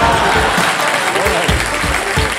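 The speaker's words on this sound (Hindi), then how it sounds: "तो एक बार फिर जोरदार तालियां हो जाए अंकुर वांकुर जी के लिए।" A studio audience at a quiz game show breaks into loud, sustained applause, a close, full roar of clapping with a voice speaking over it.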